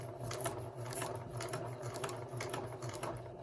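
A sewing machine runs a zigzag stitch to attach a button, giving a fast, steady mechanical clatter of needle strokes, close and continuous for a few seconds with no talk.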